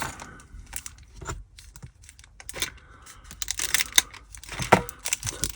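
A plastic parts bag for a Tamiya F104 PRO II Formula One model kit being cut open, with close, irregular crinkling, snips and light clicks in uneven bursts.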